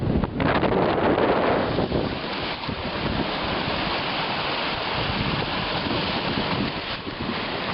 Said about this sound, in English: we're currently experiencing Hurricane Katrina II. It's very windy.